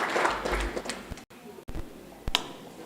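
Brief audience applause at a church self-help group education day, with a steady patter of clapping mixed with crowd voices over about three seconds and a sharp tap near the end.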